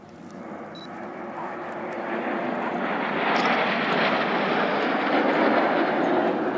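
Red Arrows display jets sweep past with a loud, broad roaring engine rumble that swells steadily and holds strong toward the end, with no talk over it.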